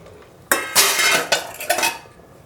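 A metal pressure cooker lid is shut and its weight set on top, giving a few sharp close metallic clanks and scrapes over about a second and a half, with no talking.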